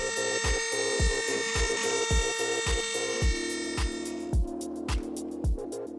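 A Shapeoko CNC router mills with a Datron 6mm single flute ball end mill on semi-finish and finish passes, giving a steady whining tone broken by a regular rhythm of sharp ticks and cutting pulses, close and alone.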